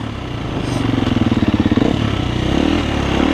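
A Husqvarna TE250 dirt bike engine runs close by, a loud rough idle that rises into a fast pulsing putter mid-clip and then settles back to a steady chug.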